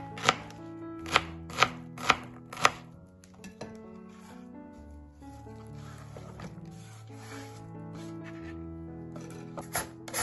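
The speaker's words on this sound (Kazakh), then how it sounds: "Сосын жуамызды осылайша турап алатын боламыз." A knife chops onion on a board with four crisp, evenly spaced strikes, followed by quieter cutting and scraping. Faint background noise sits underneath.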